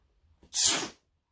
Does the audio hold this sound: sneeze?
yes